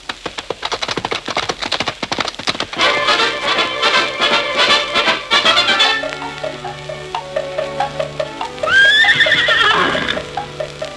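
Horses whinny loudly over a busy backdrop of music and clip-clopping hooves, with a sharp, rising neigh near the end.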